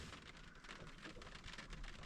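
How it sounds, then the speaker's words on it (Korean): Steady rain pattering on a parked car during car camping, close by, a soft continuous hiss with scattered drops and no voices. "빗소리 들으면서 꿀잠 잘것 같아요."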